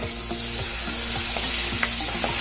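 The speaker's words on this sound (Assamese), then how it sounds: "মছলাখিনি ফ্ৰাই হোৱাৰ পিছত আপোনালোকে ৰেডি কৰি থোৱা দৈখিনি দি দিব পাৰে" Yogurt goes into spices frying in a pan and gets stirred, a steady sizzle running underneath regular scraping strokes of the spoon, close and fairly loud with no voices.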